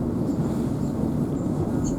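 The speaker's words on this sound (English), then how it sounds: "We seem to have a Pendolino sat in here." A Pendolino train stands idling at Birmingham New Street station, giving a steady low rumble and hum under the covered platforms, with faint high tones now and then and no talking.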